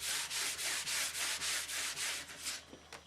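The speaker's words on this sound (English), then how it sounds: "Get that last bit of sanding in." Hand sanding wood with the grain during French polish pore filling, about ten steady back-and-forth rasping strokes in even rhythm, close and soft, slowing and breaking up at the end.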